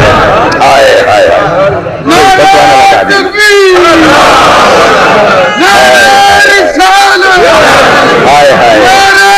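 A large crowd at a Urdu religious gathering shouts a devotional slogan in loud, rising unison calls, repeated in waves with brief pauses, echoing and dominating over a lead voice.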